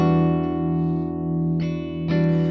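Electric guitar played through a Magic Dust Duo amp on its thin clean tone, sustained chords ringing out with two fresh strums partway through, loud and close with no voices.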